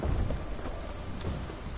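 Steady rain pours in the video game The Witcher 3: Wild Hunt, a dense, even hiss with no break and no voices over it.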